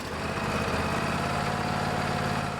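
A Husqvarna riding lawnmower engine runs just after a battery replacement, a loud close steady rumble with a rhythmic low throb and no voices.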